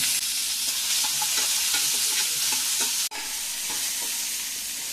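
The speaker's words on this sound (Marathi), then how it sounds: "आणि आता त्यात टोमॅटो घालायचा, बरा मोठा 1 घेतलेला आहे" Tomato stirred into a frying chickpea curry base, with a steady bright sizzle under light rhythmic stirring taps of a spoon against the pan, a brief dropout near the middle, and no speech.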